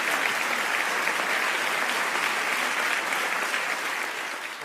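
An audience applauding to welcome the Governor of Punjab at a music festival event, a dense, steady roar of many clapping hands that fades slightly at the end.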